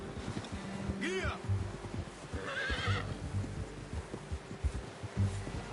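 A horse whinnies in the Red Dead Redemption 2 game world, a shaky rising neigh early on and a second one midway, over a steady ambient bed with light background sound throughout.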